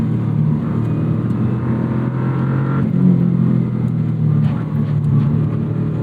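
A 2001 Subaru Impreza 2.5RS (GC6) engine pulls under throttle, a loud, steady drone heard from the cabin that rises gradually in pitch, with a brief dip midway and no talking.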